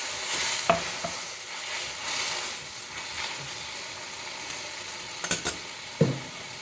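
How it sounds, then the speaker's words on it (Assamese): Green bananas fry in a pan with a steady, close sizzle while a utensil stirs, and sharp scraping clatters break in near the end as water is added. "এতিয়া মই এয়া পানী এড কৰিম।"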